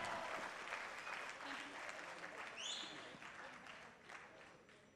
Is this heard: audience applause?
yes